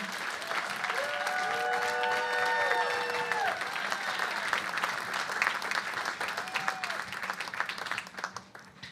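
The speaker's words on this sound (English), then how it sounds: "give a round of applause to Ana, Juan Pablo, and our board chair, Kelly" A live community-organization event audience gives a sustained round of applause for the UnidosNow team, steady dense clapping that tapers off toward the end, with a few voices and whoops rising over it.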